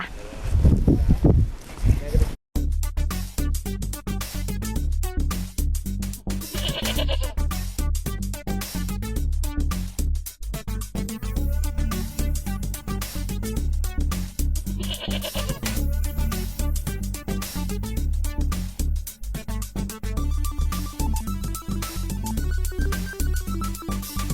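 Goats bleat repeatedly at a goat farm park in Lopburi, Thailand, the calls loud and close over a steady background of music and crowd noise.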